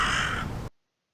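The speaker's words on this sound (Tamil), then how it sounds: "காகம் கா கா கா என்று கத்தும்." A crow cawing, one loud, close, harsh call held for under a second and then cut off into silence.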